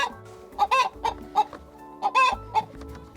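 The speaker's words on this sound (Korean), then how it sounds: "이렇게 쾌적한 환경에서 키워지는 건강한 닭은 건강한 먹거리를 생산합니다" Chickens in a clean, well-kept henhouse cluck in short close bursts, two clusters of sharp calls with brief pauses between them.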